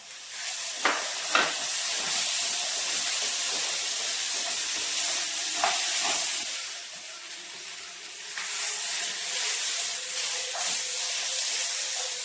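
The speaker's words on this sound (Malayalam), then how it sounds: "എല്ലാം കൂടെ നന്നായിട്ട് വഴറ്റിയെടുക്കാം." Onions, green chillies and chopped tomato sautéing with chicken in a pan for a chicken curry: a steady loud sizzle and hiss with a few sharp spatula scrapes near the start and middle, no voices.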